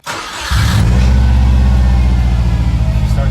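A 2003 Subaru WRX bugeye, still showing a check engine light with a TGV fault, cranks briefly and catches within half a second, settling into a loud, steady idle with a rhythmic low rumble close by.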